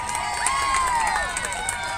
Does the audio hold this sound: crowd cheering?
yes